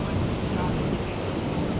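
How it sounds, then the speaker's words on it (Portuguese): The Cachoeira dos Couros waterfall in Chapada dos Veadeiros, Goiás, makes a loud, steady, close-up roar of rushing water, with no break. "estamos aqui na Cachoeira dos Couros"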